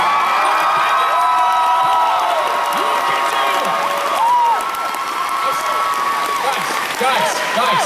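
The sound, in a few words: audience applauding and cheering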